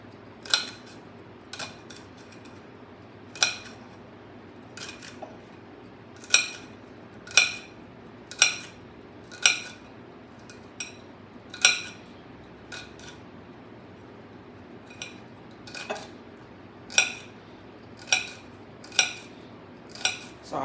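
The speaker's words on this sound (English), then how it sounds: "Now I'm gonna chop up my celery, then slices." A knife chops through a halved celery stick on a cutting board, each crisp knock separate and evenly spaced over about twenty seconds, close and clear against a faint hum with no voices.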